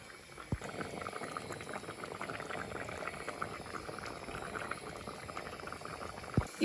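Karimeen (pearl spot) fish molly with tomato and curry leaves simmering in a covered pan, a continuous close bubbling and hiss of steady boiling with a couple of tiny clicks, no talking.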